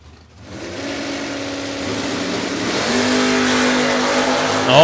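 A Mustang door-car drag racer launches at a North Carolina drag strip, its engine surging from near silence into a loud, sustained roar that builds in pitch over a few seconds.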